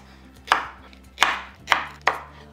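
A knife chops raw plantain into pieces on a board with four sharp, evenly spaced cuts. Each cut is a crisp, close thunk that fades quickly, with quiet between strokes and no talk.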